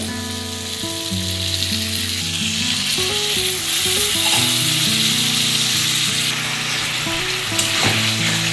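Spiced masala sizzling loudly in a pan as sour yogurt is stirred in for a thin Bengali bata fish curry, a constant hot frying hiss with stirring scrapes and no talking.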